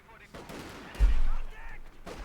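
German MG42 machine gun firing in the Company of Heroes 2 strategy game, a loud sustained burst of rapid gunfire with a heavy low thump, layered among other battle sounds.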